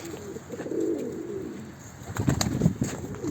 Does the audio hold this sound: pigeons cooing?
yes